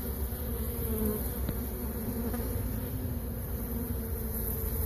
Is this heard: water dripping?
no